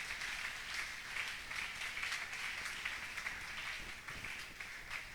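Indoors at a church service, a congregation claps in a rough, fairly steady rhythm for several seconds, the applause moderately loud and a little distant.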